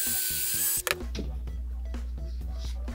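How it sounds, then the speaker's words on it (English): A power drill whirs at high speed, stops abruptly, then restarts with a lower, steady hum as it bores pilot holes into wood. "I'm also going to pre-drill these holes to make them easier to install."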